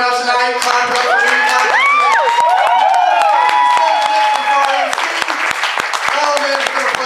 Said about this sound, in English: thank you very much for coming out tonight. Clap it up for me.